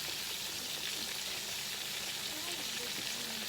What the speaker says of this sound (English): we got our chicken frying, and this is my floured up pan.